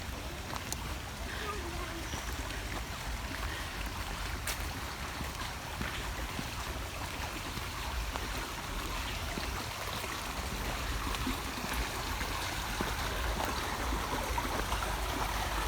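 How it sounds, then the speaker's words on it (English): A brook at Brushy Creek Lake in Cedar Park, Texas, flowing over a shallow waterfall makes a steady, broad rushing wash throughout, moderately faint and continuous. "Got a little bit of a waterfall here. Shallow waterfall. The sound of the brook is"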